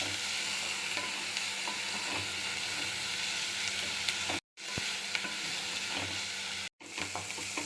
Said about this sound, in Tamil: நல்ல கலர் சேஞ்ச் ஆகிற வரை நல்லா வதக்கணும்.